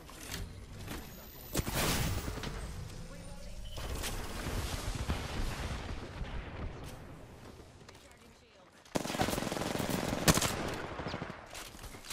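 Gunfire in the battle royale shooter Apex Legends crackles in repeated bursts and sharp shots under a continuous game soundscape, with players talking over it.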